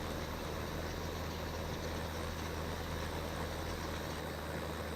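An in-game tractor engine idles in Farming Simulator 15, a steady, faint low rumble with a broad even hum that holds unchanged throughout, with no talking.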